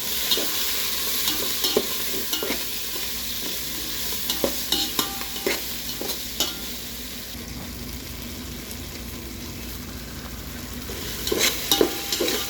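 Tomatoes with turmeric sautéing in a pan for crab soup give a continuous low sizzle, while a spatula scrapes and taps against the pan in irregular bursts, close by and with no one talking.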